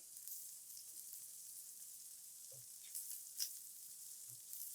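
Onions sauté in a pan for mac and cheese, giving a faint, steady sizzle with a few soft stirring taps and clinks, quiet and close with no talk.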